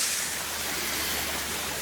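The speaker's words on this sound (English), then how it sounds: "A little bit more of waterfall down here," A small waterfall rushes steadily in a foggy forest beside an old railway trestle, a constant broadband wash of falling water that stays even and close throughout.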